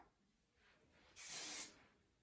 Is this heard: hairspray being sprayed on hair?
yes